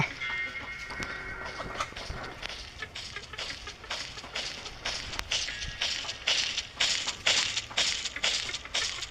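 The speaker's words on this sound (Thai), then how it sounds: "เสียงเท้ามันดังมากครับ" Heavy, crunching monster footsteps in the Roblox game Doors thud in a steady, loud rhythm, growing stronger toward the end.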